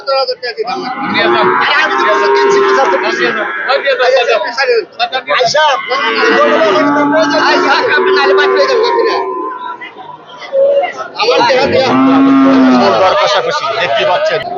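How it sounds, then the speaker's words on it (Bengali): Heifer calves lowing at Horjotpur cattle market, repeated loud moos rising over a steady hubbub of voices and crowd noise. "আমরা দেখছি চমৎকার কিছু বাছুর"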